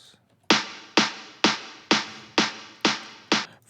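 Second snare layer of an electronic song build-up, seven punchy snare hits at a steady half-second pulse, each decaying with a noisy tail, fairly quiet and dry, no talking.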